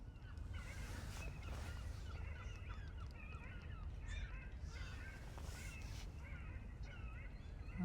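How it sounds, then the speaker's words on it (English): Seagulls call out over the Holderness coast by the River Humber, a scattered chorus of faint, distant cries above steady low wind and surf rumble, with no talking. "That's the seagulls going out."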